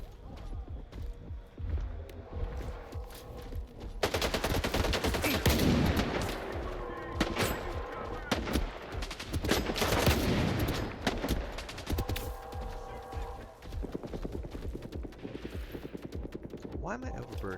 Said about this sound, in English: Somebody was just shooting at me.